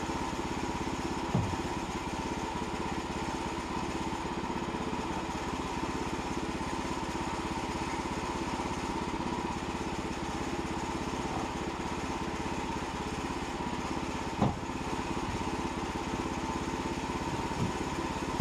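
A sawmill engine runs steadily while a log is squared, a constant mid-pitched drone with a few faint knocks and clatters over nearly twenty seconds.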